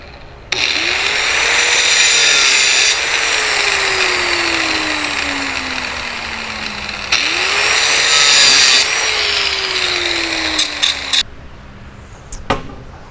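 A power saw whines loudly as it cuts through material during an off-grid lithium battery setup, its pitch dropping under load across two long passes, then winding down with a few clacks.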